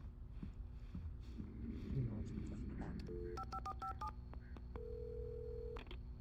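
A telephone being dialed in the video game Alan Wake, a quick run of touch-tone beeps followed by a longer steady tone, over a low background hum.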